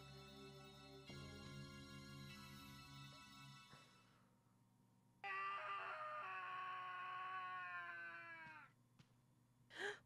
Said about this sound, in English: What's that scream?